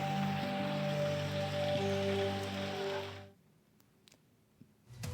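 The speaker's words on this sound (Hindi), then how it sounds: "आसमान से बरसी बारिश राहत नहीं बल्कि आफत बनकर के बरसी है" Heavy monsoon rain pours down in a dense, steady roar for about three seconds, then cuts off abruptly to near quiet with a few faint knocks.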